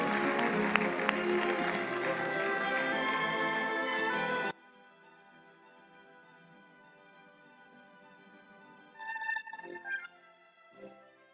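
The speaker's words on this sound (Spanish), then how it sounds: "Un aplauso." Audience applause at a school graduation ceremony, a dense burst of clapping for several seconds that stops abruptly, followed by quiet room tone and a few brief noises.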